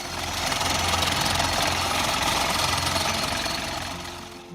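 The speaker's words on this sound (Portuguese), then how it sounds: "a broca gira e penetra profundamente no solo com força extrema, quebrando as camadas de rocha" A farm drilling rig's bit turns and bores deep into soil and rock layers, giving a loud, steady engine drone with a grinding, knocking vibration throughout and no talk.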